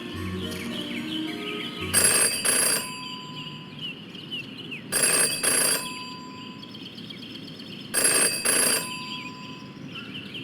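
In the detective game Jenny LeClue, a telephone rings three times in separate double bursts spaced evenly apart, loud and close, with quiet ambient tones and soft chirps between rings.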